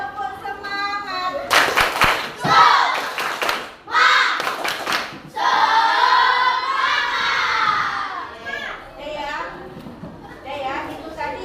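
A classroom of children does a rhythmic spirit clap together, sharp bursts of clapping mixed with shouting and cheering voices, loud and close, in several short rounds.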